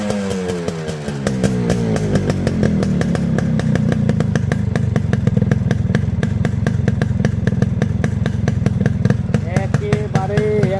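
A Yamaha RX 100 two-stroke motorcycle in fresh condition with its original carburetor runs close by, its engine note settling from a brief rev into a steady, rapid, buzzy idle that stays loud throughout.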